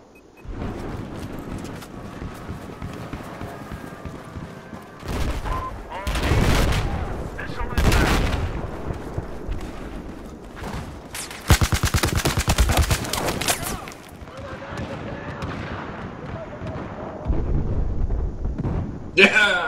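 Dense, continuous gunfire and explosions fill a Battlefield 4 Conquest match on the Silk Road map, with heavy bursts and rattling automatic fire throughout and players talking over the din.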